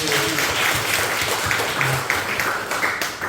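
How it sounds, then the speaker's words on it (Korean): A congregation claps together during a Sunday church service, a short, full burst of applause filling the room with busy overlapping hand claps. "박수 한번 해주세요."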